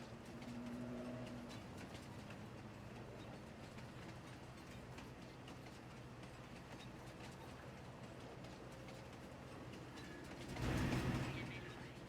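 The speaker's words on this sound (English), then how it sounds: "It's actually accelerating quite good, this train." Train in the video game Farming Simulator 22 accelerating, giving a steady rumbling rolling drone with a faint rhythmic clatter, continuous at moderate level, with a brief louder burst near the end.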